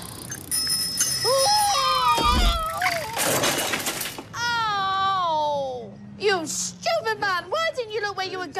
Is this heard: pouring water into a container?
no